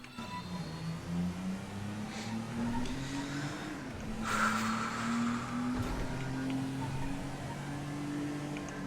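A car is driven fast in GTA, its engine note climbing and dipping through gear changes with a brief burst of tire squeal and skidding midway, steady and fairly close throughout.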